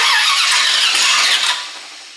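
A small-block 350 crate engine in a 1934 Ford Coupe cranks and catches on a first start, a loud, close, raspy roar that holds steady and then eases off slightly toward the end.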